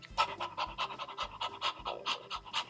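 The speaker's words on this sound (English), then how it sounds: "Here, Patrick, can you stop that dog from licking the back of my neck? It's driving me nuts" A dog pants in the back of a small yellow car, giving quick, rhythmic, breathy huffs close by, about a dozen in under three seconds, with nobody talking.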